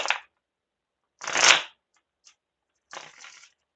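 Tarot cards being shuffled by hand in three short, close bursts of riffling and sliding with silent pauses between them.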